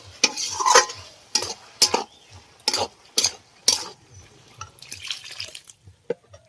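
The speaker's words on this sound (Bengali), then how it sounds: "এবার আমি জল ঢেলে দেব" Water is poured into sautéed bottle gourd in a hot pan, giving sharp sizzling bursts and stirring clatter at an irregular rhythm that fade into softer bubbling toward the end.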